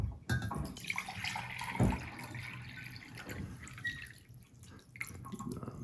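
Water is poured out to measure it for cooking jasmine rice, a close trickle and splash with dripping that fades and returns.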